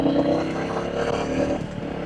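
Royal Enfield Bullet 350 motorcycle riding at about 60–70 km/h and braking, with a steady, loud engine drone and wind rumble that holds level and dips slightly near the end.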